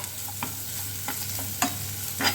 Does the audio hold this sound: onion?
yes